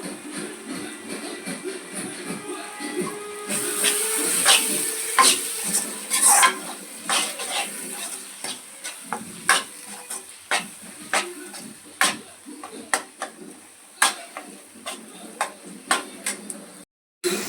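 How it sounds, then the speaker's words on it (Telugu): Country chicken curry with tomatoes and turmeric simmers and sizzles in a pan, a steady hiss broken by many sharp spoon-on-pan scrapes and clinks at an irregular rhythm, close and fairly loud, with no talking. "ఇప్పుడు కాసేపు ఉడకనిద్దాం"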